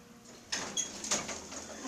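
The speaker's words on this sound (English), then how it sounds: "I think the door closed when you push the button" A Westinghouse hydraulic elevator door at a Macy's store slides shut with a sudden mechanical rush and a few sharp clunks and rattles, heard close and fairly loud after a brief quiet moment.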